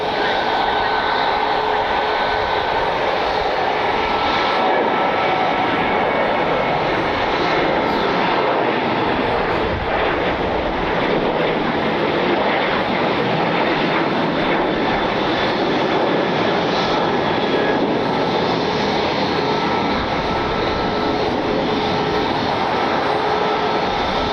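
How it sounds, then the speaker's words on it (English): A Southwest Airlines jet takes off at Cleveland, its engines roaring loud and steady throughout, a broad sustained rumble and whine heard from nearby. "And the Southwest taking off."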